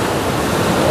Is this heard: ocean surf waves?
yes